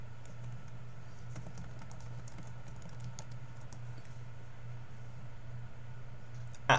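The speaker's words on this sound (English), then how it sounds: "Let me type up Ken Jeong box office set." Soft, steady tapping of keys on a computer keyboard close by, a quiet patter of keystrokes over a constant low electrical hum.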